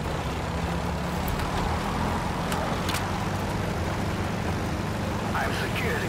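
A vehicle driving in the video game Metal Gear Solid V: Ground Zeroes gives a steady, dense engine and road rumble that holds at an even level throughout, close and unbroken.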